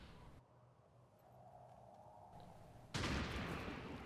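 A single gunshot in XCOM 2: War of the Chosen rings out sharply near the end, a loud broadband crack following a quieter stretch of low rumbling game ambience.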